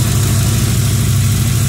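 A 1989 Corvette with an L98 350 tuned-port-injection V8 idles steadily and loudly close by, a constant low rumble with no speech.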